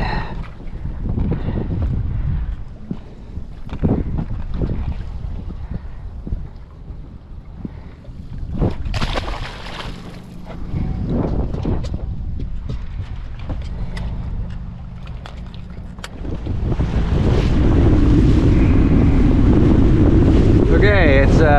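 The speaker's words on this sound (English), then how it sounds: "it's about 30 mile an hour winds" Strong wind of about 30 mph gusts over a fishing boat on the St. John's River, buffeting the microphone in uneven bursts, with water slapping the hull and a louder sustained rush near the end.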